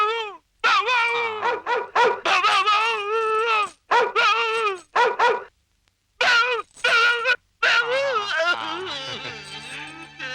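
A voice mimics a dog barking in a series of short, loud, strained woofs and yelps, broken by brief pauses, ending in a whining, groaning drawn-out call.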